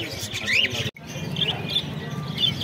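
Small lovebirds chirp and tweet in short bursts amid a busy, noisy background of crowd murmur at a bird market.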